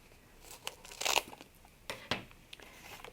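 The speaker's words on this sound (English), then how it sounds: "I'm just going to take scissors and trim it down" Scissors snip through a foam adhesive sheet in a few quiet, irregular crunchy cuts with soft crinkling between them, close and faint.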